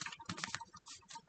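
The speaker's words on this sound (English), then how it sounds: "did I shuffle these? I'm shuffling again." A deck of tarot cards shuffled by hand, giving a quick run of soft, papery riffles and slaps over about a second, close and fairly quiet with no voices.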